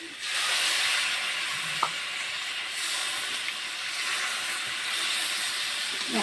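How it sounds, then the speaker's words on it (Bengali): Crab curry with a little added water comes to a boil in a pan, giving a steady, fairly loud hissing sizzle that runs throughout with no talk over it. "জল দিয়েছি আর দেখুন মধ্যে ফোটা আরম্ভ হয়ে গেছে।"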